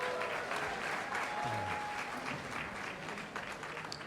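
A jazz concert audience gives itself a round of applause, producing a steady, fairly soft wash of clapping that continues evenly throughout with no voices over it.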